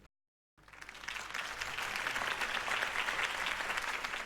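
Applause from a crowd at a campaign speech in the Batman Telltale video game starts abruptly after a short silence and rises into a steady, fairly soft wash of clapping.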